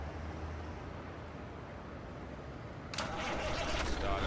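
A Cummins ISX 750-horsepower truck engine cranks and catches partway through, the steady low rumble giving way to a louder, broader roar that keeps running to the end; a voice is faintly present underneath.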